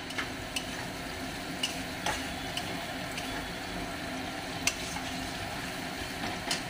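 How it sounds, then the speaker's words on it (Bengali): Fried potatoes tipped into sizzling masala in a kitchen pan and stirred, a steady hiss of frying with scattered scraping clicks from the spoon, close and continuous, with no talk. "যে সেই ভাজা আলুগুলো এর মধ্যে ঢেলে দেবো।"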